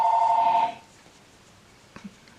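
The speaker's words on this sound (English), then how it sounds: "There goes the phone." A telephone rings loudly for under a second with a steady electronic trill, then cuts off, leaving a quiet room with a couple of faint soft knocks.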